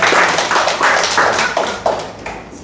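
Applause breaking out in the middle of a real-estate lecture, a dense run of clapping with rhythmic bursts that holds fairly loud and close for a few seconds before easing off.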